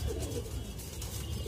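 Pigeons cooing in a loft where breeding pairs are being matched, soft low rolling coos repeating over a faint background hum, close by but quiet.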